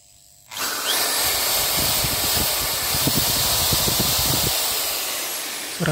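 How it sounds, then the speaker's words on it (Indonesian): An electric drill powered by a 700-watt off-grid solar system bores into a block of ironwood timber, running loud and steady for several seconds with rapid grinding bursts as the bit bites into the wood. "Sekarang saya akan coba bor ini untuk langsung ngebor kayu balok"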